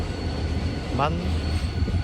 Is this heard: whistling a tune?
no